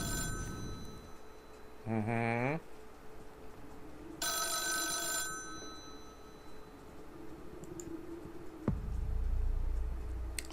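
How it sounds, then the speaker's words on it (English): A telephone rings in the hand-drawn horror game The Doll Shop: two separate electronic trilling bursts sound clearly over a low, dark ambient drone, followed by a sharp click. "My troubled sleep is broken by the ringing of my phone."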